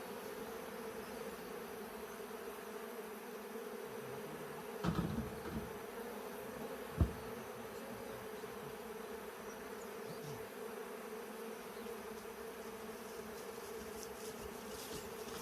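Africanized honey bees buzz steadily in an opened hive box, a continuous dense drone with a couple of brief knocks, no talking.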